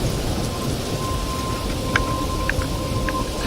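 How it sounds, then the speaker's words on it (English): Steady rain hisses throughout a thunderstorm in the video game Life Is Strange, with faint crackles of distant thunder breaking through the wash of falling water. No one speaks. "I'm trapped in a storm?"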